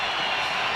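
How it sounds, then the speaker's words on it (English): A stadium crowd roars at a Giants versus Broncos NFL football game, a dense, loud, continuous wash of cheering voices with no distinct claps. "Crowd into it."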